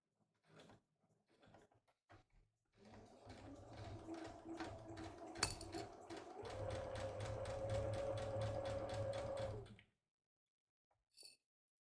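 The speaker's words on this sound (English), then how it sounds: "And I'm gonna sew my other pocket." A sewing machine stitching a fabric pocket on a drawstring project bag runs in a steady, close whirring burst of about seven seconds, preceded by a few soft handling clicks and followed by quiet.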